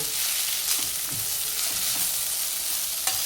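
Kurdai, dried wheat crisps, gently stirred into a frying vegetable bhaji in a pan, giving a continuous loud sizzle broken by a few soft spoon scrapes and one sharp clack near the end.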